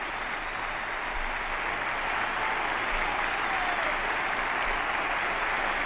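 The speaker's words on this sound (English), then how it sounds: "They're applauding for Ron Scott, the engineer, and Tom Dixon, the draftsman" A football crowd at St. James's Park breaks into sustained, dense applause, a loud, even roar of clapping that holds for the whole stretch with no voice over it.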